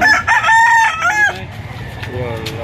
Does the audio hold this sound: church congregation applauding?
no